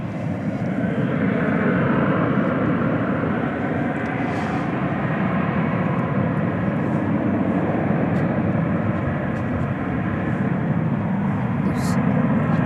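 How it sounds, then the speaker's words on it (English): An American Airlines Airbus A321 departing DFW at night for Los Angeles gives a sustained, fairly distant engine roar that stays even across the whole stretch, with faint voices at times. "Appears to be American Flight 779 off to Los Angeles. An Airbus A321."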